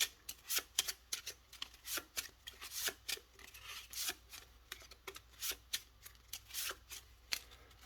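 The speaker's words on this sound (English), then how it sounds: "So we're going to shuffle everything up and prepare things for round 2." A deck of cards being shuffled for a tabletop bird card game, with repeated crisp riffles and snaps in an irregular rhythm, close and clear with no talking.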